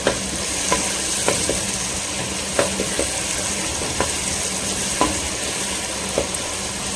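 Onions frying in hot oil give off a steady sizzle, with repeated light scraping taps as they are stirred.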